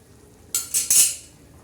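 A metal lid clanks down onto a cooking pot of drumsticks and moong dal, a brief bright clatter of two or three quick ringing knocks that fades over a quiet background.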